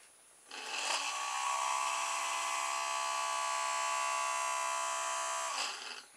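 A small battery-powered motor on a homemade styrofoam cup and plate hovercraft, run from an external 9-volt battery, whirs up and holds a steady, bright buzzing hum for about five seconds before cutting off.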